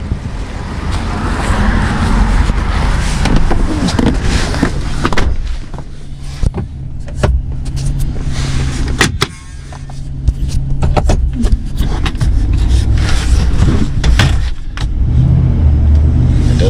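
A 4th-generation Ram 2500 pickup truck with a P0706 fault drives on a test run. A steady, loud engine and road rumble carries on throughout, with scattered clicks and knocks from the cab and no talk.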